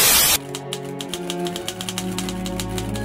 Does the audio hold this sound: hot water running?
no